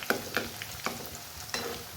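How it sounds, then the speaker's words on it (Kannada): Chiroti frying in oil over a medium flame, a soft continuous sizzle broken by several brief crackling bursts, close up with no talking. "ಚೆನ್ನಾಗಿ ಮೀಡಿಯಮ್ ಉರಿಯಲ್ಲಿ ಕಂದು ಬಣ್ಣ ಬರೋವರೆಗೂ ಕರ್ಕೊಳ್ಳೋಣ"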